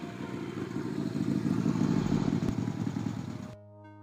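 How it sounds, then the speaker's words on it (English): A motorcycle engine in the video game Darkseed 2 drones and rumbles, swelling in the middle, then cuts off abruptly near the end. "I couldn't tell given the motorcycle noises."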